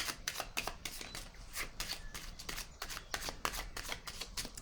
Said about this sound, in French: Je vais déposer les cartes ici.